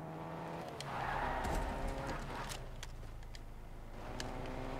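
A car drives in the Fortnite video game with a low engine rumble and a swelling roar mid-passage, mixed with scattered clicks and knocks at moderate level.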